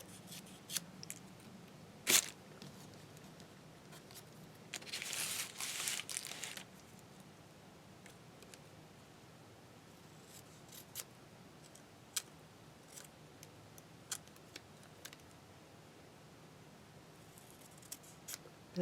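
Scissors trimming paper for a collage journal, faint close snips and clicks scattered through a quiet room, with a louder cut early on and a short rustling stretch of handled paper.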